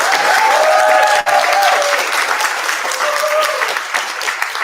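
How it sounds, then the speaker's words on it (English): Wedding reception guests clapping and cheering loudly during the toasts, a dense wash of applause with a few whoops and shouts rising over it, then easing slightly toward the end. "For a loud cheer."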